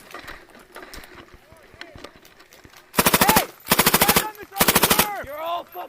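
An airsoft M249 machine gun fires outdoors in three rapid, loud bursts close by, after a stretch of quieter rustling and movement, with voices nearby.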